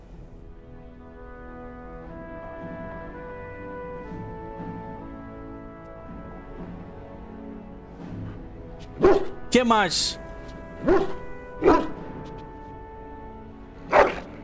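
A dog barks several times in the video game Dragon Age: Origins, short sharp barks and whimpers in the last few seconds over low game music, with someone talking before them.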